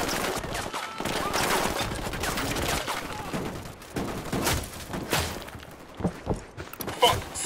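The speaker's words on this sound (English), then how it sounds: "I'm opening fire." Gunfire in the video game Ghost Recon Wildlands during an attack on a boat lab, with rapid bursts and sharp shots alongside thuds and footsteps, varying in loudness across the scene.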